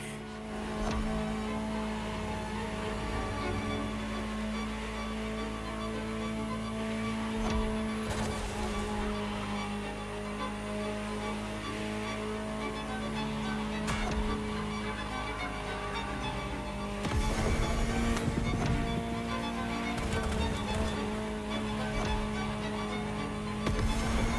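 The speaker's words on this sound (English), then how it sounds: "Just listen to the car you're driving." Ferrari supercar engine in The Crew Motorfest, a steady sustained drone with a constant harmonic tone, swelling louder near the end as the car pushes harder, with no talk.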